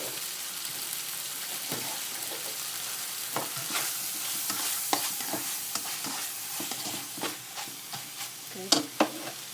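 Chicken with Thai holy basil stir-fried in a pan after fish sauce goes in, a steady close sizzle broken by scraping spatula strokes that grow sharper and more frequent toward the end.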